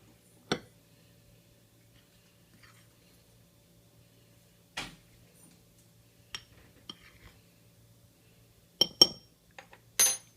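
A spoon or whisk clinks now and then against a glass bowl while cookie dough is mixed with flour and baking soda for watermelon cookies. The taps are sparse and quiet, with a few closer clusters near the end and no talk.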